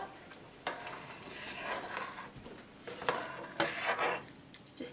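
Rosemary, onion powder and garlic powder being stirred into amaranth in a bowl for gluten-free crackers, a steady scraping and clinking of utensil against dish with a few sharper knocks, close and continuous.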